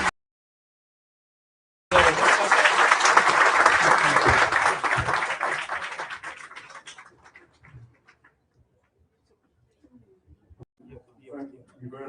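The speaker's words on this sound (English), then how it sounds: "A round of applause for our panelists." Audience at a central bank roundtable discussion applauds the panelists, a loud, dense burst of clapping for about four seconds that tapers off, then sparse talk follows.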